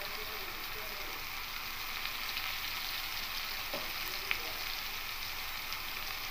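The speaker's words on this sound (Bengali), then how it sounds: "লাউগুলো একটু ভেজে নেব। হালকা একটু লাউটাকে নাড়াচাড়া করে রেখি।" Chopped bottle gourd fries in a little oil in a pan, giving a steady, even sizzle with a few faint taps of stirring.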